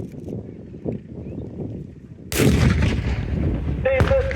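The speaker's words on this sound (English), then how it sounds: "So Nigel now being given order to fire" A tank gun fires at a military vehicle show: one sudden, loud blast that stays dense and rumbling after the shot, following a stretch of low outdoor background noise.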